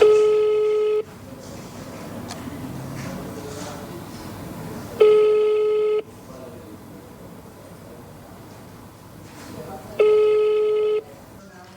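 An unanswered call to the public-service office of the Sicilian motorway consortium: a steady ringback tone sounds as three long beeps about five seconds apart, with low background noise in the gaps.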